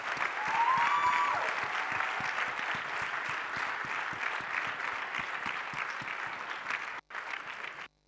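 A large audience applauds staff at a university autumn graduation ceremony, dense, even clapping sustained for several seconds, heard somewhat distantly through a hall before cutting off abruptly near the end.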